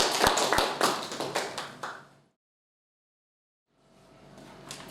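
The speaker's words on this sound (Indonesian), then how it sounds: "Tepuk tangan untuk Maulis ya." Short burst of classroom clapping for a student during a photo-editing lesson, a few sharp hand claps fading out, then a pause before quiet room sound returns.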